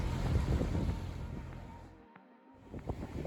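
A sailing boat crosses heavy sea offshore between Sardinia and Sicily, with rushing waves, spray and gusting wind noise on the microphone, loud and turbulent, dipping briefly before surging back.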